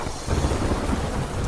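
Heavy rain in Vyara pours in a dense, continuous roar, with low rumbles of thunder and buffeting wind in a short, loud burst.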